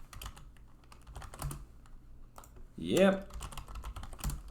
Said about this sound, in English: I don't know why I bother typing actual messages